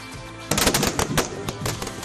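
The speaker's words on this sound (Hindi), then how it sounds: "अंधेरा होने से पहले ही आतिशबाजी हो रही है।" Fireworks crackle in rapid bursts at a celebration outside a house in India, a sudden volley of sharp pops and bangs that keeps rattling on loudly after a quieter start.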